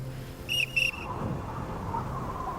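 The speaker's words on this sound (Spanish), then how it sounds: "Howard cogió el silbato de su oficial y de forma repetida en código Morse hizo la señal V de victoria" An officer's whistle blown in short repeated blasts, a Morse code V signal: two quick bright toots close together, then quiet background.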